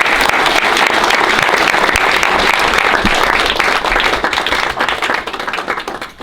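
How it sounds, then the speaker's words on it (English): Loud, steady applause from an audience at a school board of education meeting, sustained for several seconds before tapering off slightly at the end. "Round of applause for everyone."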